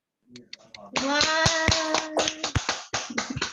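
A small group, children among them, clapping to welcome a children's book author at an online author meet-up, with brisk uneven hand claps under an exclamation and voices.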